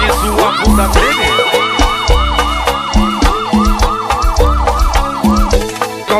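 A wailing emergency siren sweeps up and down in quick repeated cycles as a loud sound effect inside a Brazilian dance song, layered over a thumping beat and bass throughout.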